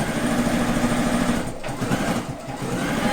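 A sewing machine stitches patchwork quilt coat sleeves in a fast, steady, close whirring run that dips briefly in the middle before resuming at full speed.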